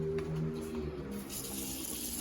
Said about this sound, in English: We're going to fill this with water right now.